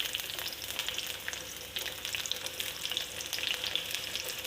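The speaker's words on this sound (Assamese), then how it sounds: "ইয়াতে মই পিঁয়াজ আৰু জলকীয়া একেলগে দিছোঁ।" Steady crackling sizzle of onion and chili frying in hot oil, close up and continuous, with occasional stirring scrapes.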